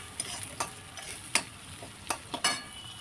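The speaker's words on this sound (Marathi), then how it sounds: "कांदा तेलामध्ये व्यवस्थित फ्राय करून घ्यायचा आहे" Onion fries in oil in a pan for a cauliflower, potato and pea vegetable dish, a soft steady sizzle broken by several sharp scraping stirs of a spoon, close and fairly quiet.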